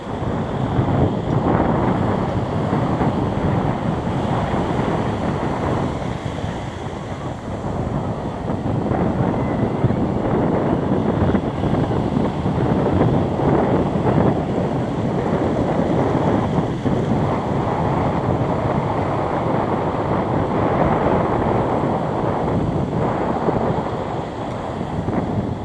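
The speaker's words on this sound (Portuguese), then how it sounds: "o vento tá bem forte" Strong wind buffets the microphone on the beach at Tamandaré, Pernambuco, a steady, loud roar with surf underneath that holds without a break throughout.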